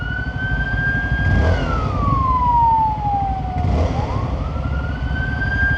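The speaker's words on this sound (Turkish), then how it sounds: "Abi ambulans yol vermemek nedir ya?" A wailing ambulance siren sweeps down and back up in pitch over steady road and engine noise, loud and close, passing in traffic on a night motorcycle ride.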